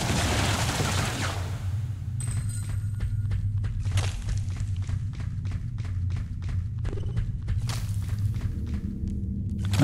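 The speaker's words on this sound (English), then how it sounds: "Hold button to fire basic blaster repeatedly." A basic blaster fires repeatedly in the video game Ghost Song, a rapid run of sharp clicky shots in quick bursts over a dense, rumbling game background.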